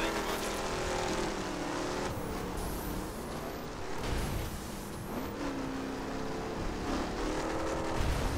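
Car racing in The Crew, a continuous engine drone with revs climbing and dropping through shifts, heard up close with faint wind and road noise.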